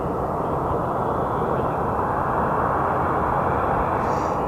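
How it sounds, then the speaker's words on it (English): A Prime Air jet takes off at Sky Harbor Airport, producing a loud, continuous low roar that holds steady throughout with no break. "All right, Air Jeff is about to take off."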